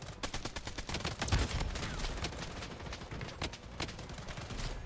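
Rapid gunfire in the online shooter Bloodstrike, a dense run of overlapping cracks and bursts sounding close and loud throughout, with automatic fire rattling steadily and no pause.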